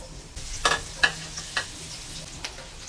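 Garlic frying in a pan on a stove gives a soft, steady sizzle, broken by a few sharp spatula clicks against the pan spaced about half a second apart.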